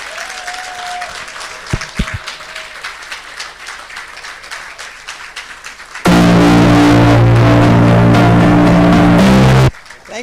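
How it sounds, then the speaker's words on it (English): A lecture hall audience claps steadily in honor of Professor Kwame Karikari at his 80th-birthday public lecture. Several seconds in, a much louder, harsh electronic burst abruptly cuts across the applause, then cuts off sharply. "And we continue to give him a round of applause."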